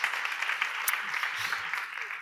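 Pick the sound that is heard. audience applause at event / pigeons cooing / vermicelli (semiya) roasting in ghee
audience applause at event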